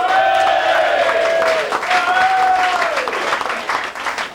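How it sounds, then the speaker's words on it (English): A stand-up comedy crowd claps and cheers loudly as a comedian is welcomed on stage, with sustained applause and shouted whoops rising and falling over several seconds. "clap your hands until they go bloody"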